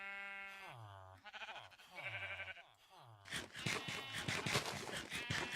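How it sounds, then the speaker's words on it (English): Many sheep on a video-game sheep farm bleat in a run of overlapping cries, separate calls first, then a loud dense chorus near the end. "that is a lot of sheep."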